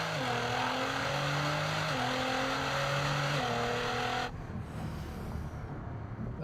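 A car accelerates in a second gear roll in Gran Turismo 7, its loud engine note climbing steadily with quick dips at two upshifts before the drone cuts away into softer rushing noise.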